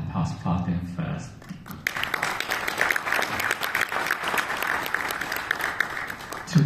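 A graduation commencement crowd at an international school breaks into sustained applause after a brief stretch of talk, the dense clapping filling the room steadily until the end.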